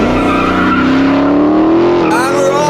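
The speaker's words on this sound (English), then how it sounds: "Little bit of wheel spin from both of us." A Kia EV6 GT electric car launches hard, its rising motor whine and squealing tires from wheel spin filling the moment, with a voice speaking over it.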